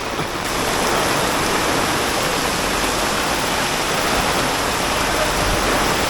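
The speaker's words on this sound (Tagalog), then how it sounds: "Pero mo, nagmistula ng dagat dito oh." Floodwater fills a street during Typhoon Carina, a loud, continuous rushing wash of water that holds steady for the whole stretch without pause.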